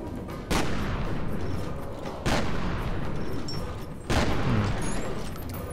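A shotgun fires three times in the video game F.E.A.R. Extraction Point, each blast loud and booming, spaced about two seconds apart with decaying echo between shots.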